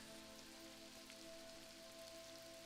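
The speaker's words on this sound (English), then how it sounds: "Oh, here's the rain." Steady rain falls in the online fantasy game Mortal Online 2, an even, continuous hiss of drops on surfaces with no talking, uniform and unbroken throughout.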